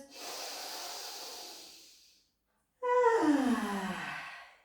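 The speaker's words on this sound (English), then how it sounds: "take a lovely breath in through the nose." A deep breath drawn in through the nose during a Pilates class, a long airy inhale that fades to silence, then a second louder, rougher nasal breath with a snorting, sighing edge, close and alone.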